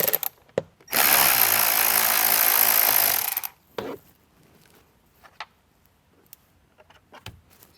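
A power driver backs screws out of the passenger door of a 2024-or-later Jeep Wrangler in one sustained loud whir of about two and a half seconds, followed by scattered clicks and light handling noises.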